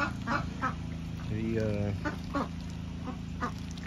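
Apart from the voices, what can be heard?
ducks quacking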